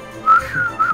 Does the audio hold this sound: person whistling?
yes